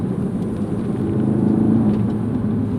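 A Ford Focus RS accelerates hard, its engine and road rumble building steadily and loud, close by and continuous with no talk.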